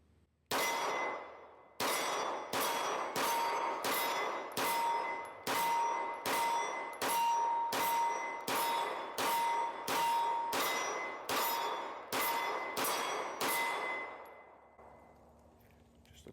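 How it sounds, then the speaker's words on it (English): Seventeen rounds from a Springfield Prodigy DS Comp pistol strike steel targets at a range, each sharp shot followed by a ringing metallic clang, fired in a fast, steady rhythm before the last ring fades out. "I'm going to shoot these 17 rounds on this steel down here."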